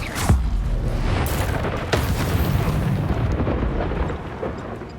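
A spell blows up a Great Spine Dugbog in Hogwarts Legacy, a sharp booming blast followed by another heavy impact a second or so later, with rumbling combat noise filling the rest of the moment.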